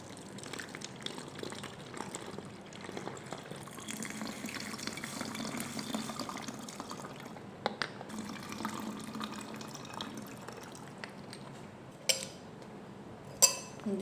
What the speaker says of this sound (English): Now we will add water to it.